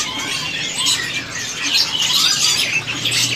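Murai trotol magpie robins calling at a bird kiosk, bright chirps and squawks layered over a busy, noisy market background, fairly close and continuous.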